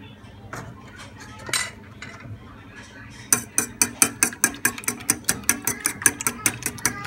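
Three eggs and milk beaten briskly in a bowl, a fork or whisk clicking against the side in a fast, steady rhythm of sharp, close ticks that follow a few softer scrapes and taps.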